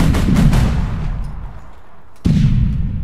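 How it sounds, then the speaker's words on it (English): Grenade explosions in the APB video game boom loudly and close, one heavy blast decaying into a low rumble before a second sharp detonation breaks in near the end. "Let's give him some grenades."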